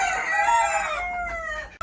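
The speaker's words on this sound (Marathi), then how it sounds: "असा कोंबडा एकदम ओरिजिनल गावठी असा आहे कोंबड्या" A rooster crows loudly and close by in one long drawn-out call that fades at the end, among a flock of free-range native village hens on a farm.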